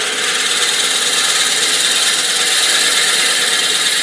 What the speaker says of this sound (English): I always slow down when I'm drilling because the faster you go, the more heat you're generating